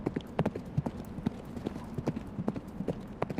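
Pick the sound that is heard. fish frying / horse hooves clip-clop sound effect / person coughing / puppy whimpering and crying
horse hooves clip-clop sound effect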